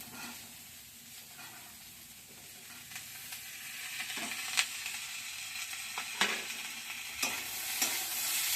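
Cauliflower, carrot and green peas fry together in a pan, a soft continuous sizzle punctuated by scraping spatula strokes at irregular intervals, fairly quiet and with no talking.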